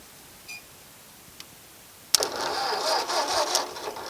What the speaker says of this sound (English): I'm gonna bump the starter